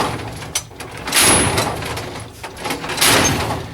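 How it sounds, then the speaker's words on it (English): A toolbox drawer on ball-bearing slides slams shut twice, each a sharp metallic bang with a rattling rush of sockets in billet aluminum trays, close and loud. "So all of the force from the drawer shutting is going to be transferred into the toolbox itself"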